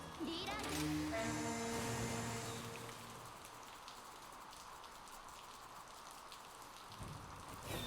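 Steady rain falling in the Monster Hunter Rise: Sunbreak game world, a dense even patter that fills the clip after a brief burst of game music and talk at the start.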